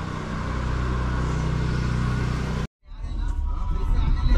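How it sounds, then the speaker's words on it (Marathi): A car brought out from a building's ground-floor office and driven off, its engine rumbling steadily up close, then a brief cut to silence before the motor returns and builds louder as it pulls away. "भाई आपला गाडी काढतोय।"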